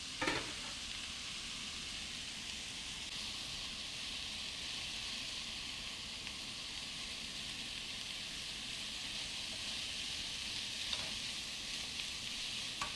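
Long-sliced onions fry in a pan for egg biryani, giving a steady, even hiss of sizzling oil that carries on unbroken at moderate volume, with only a faint stir or two and no talk.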